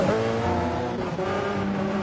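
Race car engines from Gran Turismo 7 on the Nordschleife, with a Porsche in a close battle; several engines drone steadily at high revs, close and loud, without a break.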